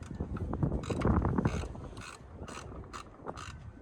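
Close ratcheting clicks and metallic mechanism sounds as a nut is tightened with a wrench on an old IH tractor, with irregular bursts of turning and clicking over a few seconds and no talk.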